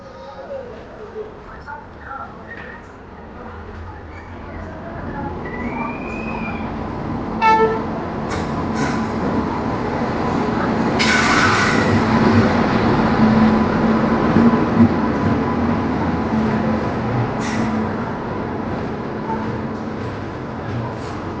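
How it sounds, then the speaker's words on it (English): The Teesta Torsha Express to Sealdah rolls into platform two at an Indian station, a rising rumble of wheels with a horn toot and a brief squeal, while people on the platform talk. "the announcement has been made, and the train is arriving platform number two"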